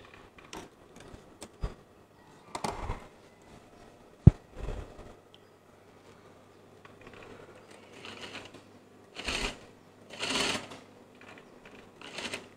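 Sewing machine stitching a child's garment, short quiet bursts of mechanical whirring and clicking separated by pauses, faint and close.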